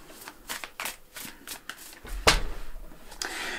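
Tarot cards being shuffled up close, a run of crisp riffling flutters and slaps repeating through the clip with one sharper snap near the middle, no talking.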